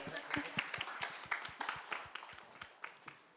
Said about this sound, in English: So can we have a huge round of applause for Malaika, everybody